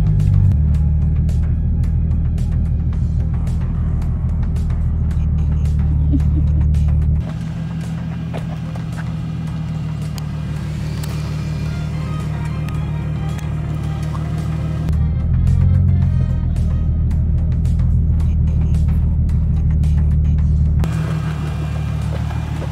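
An Infiniti Q50 rolls slowly into a home driveway, a steady low engine rumble with a brief rise partway through, heard from inside the car without talk.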